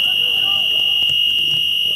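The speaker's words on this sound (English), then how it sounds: "don't mind the buzzer." A steady, piercing buzzer sounds continuously at a soccer match, loud and unbroken throughout, while a commentator talks over it.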